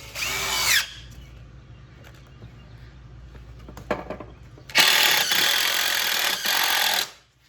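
A power drill drives screws into a wooden boat frame being built: a short whine at the start, then a longer loud, steady drilling burst of about two seconds, close up with quiet workshop sounds between.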